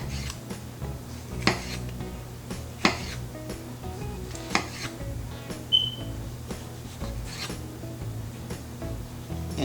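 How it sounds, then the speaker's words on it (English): A knife slices cored tomatoes on a kitchen board: faint irregular knocks and clicks, a few sharper taps among soft cutting scrapes, close but quiet, with no talk. "Now I'm gonna go ahead and cut, slice actually, the tomatoes."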